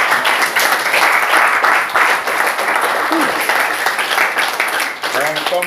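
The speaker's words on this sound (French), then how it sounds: "Applaudissons pour le Seigneur." A church congregation at a worship gathering applauds the Lord, loud sustained clapping from many hands close by, with voices calling out over it and a singing or shouting voice rising near the end.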